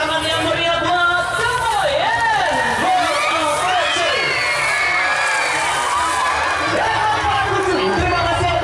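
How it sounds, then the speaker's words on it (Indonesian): A loud, continuous crowd of schoolchildren cheers and shouts in an audience at a bird of prey show at Echo Green Park, with excited voices rising and falling throughout and no clear break. "terima kasih atas tepuk tangannya"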